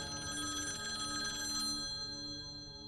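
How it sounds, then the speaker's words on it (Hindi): An old telephone ringing as a sound effect in a ghost story set in Banaras, a bright trilling bell that rings alone for a few seconds and then fades. "उस कमरे से आज भी कभी कभी टेलीफोन बजने की आवाज आती है"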